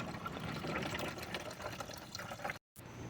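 Coolant drains from a Nissan/Infiniti engine into an empty container, a continuous splashing, trickling pour of liquid heard close up, briefly cutting out near the end before resuming.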